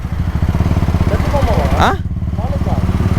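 A loud Kawasaki KLX 230 dirt bike with a 250 exhaust revs close by with a rapid, throaty exhaust putter, briefly rising in pitch before settling back to a steady idle.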